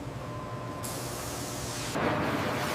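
Steady hiss of a water spray nozzle washing pineapple skins, constant and close, growing brighter and stronger partway through as the nozzle is adjusted.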